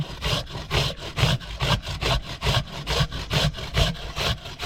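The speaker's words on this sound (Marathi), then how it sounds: "आता आपल्याला किसणीवरती काकडी किसून घ्यायची आहे" A cucumber is rubbed against a kitchen grater in quick, regular rasping strokes, about three per second, loud and close with no talk.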